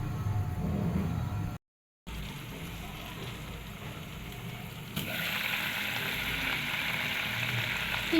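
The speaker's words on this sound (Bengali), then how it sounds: "আমি এটা ভালো করে ফুটাবো।" Fish curry with mustard and thinly sliced potatoes bubbling in a pan, a soft steady sizzle and simmer at low volume, briefly cut to silence and then picking up a brighter hiss.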